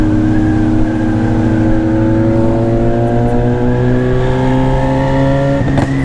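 Honda CB1000 motorcycle engine holding a steady, loud, close exhaust note with a slight rise in pitch, ending in a sharp exhaust pop.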